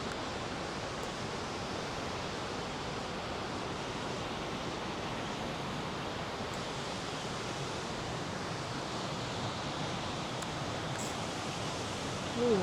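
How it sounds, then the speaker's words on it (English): A large waterfall near Mendenhall Glacier in Juneau, Alaska, roars as a steady, dense, unbroken rush of falling water, loud and constant throughout with no talking. "This is one beautiful waterfall."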